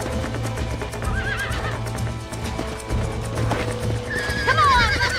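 Horse neighing and whinnying in the Red Dead Redemption video game, two clear high whinnies over a busy background of hoofbeats and game noise, the second louder near the end.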